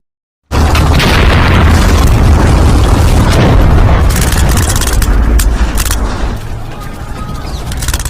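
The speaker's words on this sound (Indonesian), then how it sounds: "bom dan tembakan terjadi di mana-mana" Loud, dense battle noise between Soviet and Nazi German forces: heavy booms and blasts layered with rapid bursts of gunfire, continuous throughout and easing slightly toward the end.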